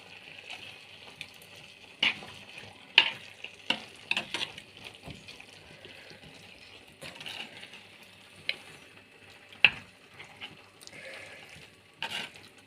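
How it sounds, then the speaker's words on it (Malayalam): Tempered mustard seeds being stirred into an ivy gourd and jackfruit seed thoran produce scattered soft scrapes and clicks of a spoon against the pan over a quiet background, with faint light sizzling. "ഇനി നമ്മൾ കടുക് കാച്ചത് ഒഴിച്ചു കൊടുക്കാം. നമുക്കിതൊന്ന് ഇളക്കി യോജിപ്പിക്കാം."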